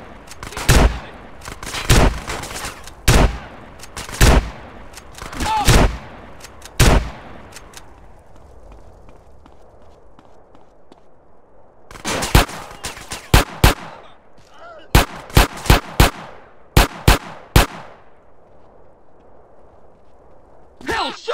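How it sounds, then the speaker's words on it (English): Gunfire from the video game GTA San Andreas: sharp, loud shots fired in irregular bursts, a cluster of roughly six early on, then a quiet stretch, then a rapid run of further cracks near the end. "That was a sniper bullet!"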